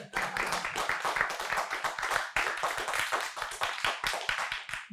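Steady applause from an audience at a remote talk on a LeSS agile adoption, dense overlapping hand claps that carry evenly through the whole stretch with no pause.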